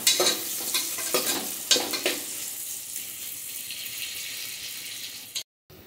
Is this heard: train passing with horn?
no